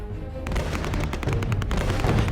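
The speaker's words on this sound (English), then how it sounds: "It was a mix of shots from multiple kinds of guns." Dense gunfire from police pistols and high-caliber assault rifles, a chaotic continuous volley of sharp overlapping shots over a heavy low rumble.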